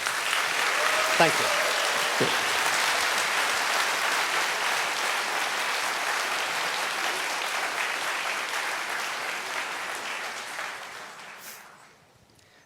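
A large convention audience at the Eurofurence opening ceremony claps in a long, even wave of applause that holds steady before fading out at the end, with a brief voice speaking near the start.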